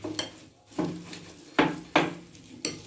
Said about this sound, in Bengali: এবার আমি একটা বাটিতে এটা তুলে নিচ্ছি